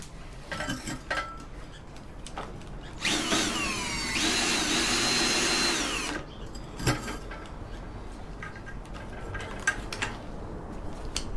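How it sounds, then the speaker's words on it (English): A cordless drill driving a manual scrap copper wire stripper whirs for about three seconds, its pitch rising and falling, amid scattered clinks and knocks of handled metal nearby. "And that's it, just a cordless drill."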